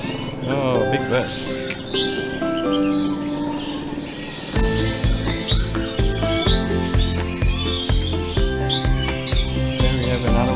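Birds chirping and singing in the Bird Paradise aviary in Singapore, a busy mix of varied calls and tweets, with people talking loudly over them throughout.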